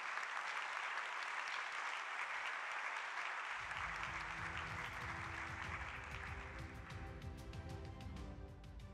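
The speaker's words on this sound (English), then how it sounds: "Please give a big applause to Rob." Sustained applause from a large conference audience fills the room, steady and dense, with a low rumble joining partway through as the clapping continues.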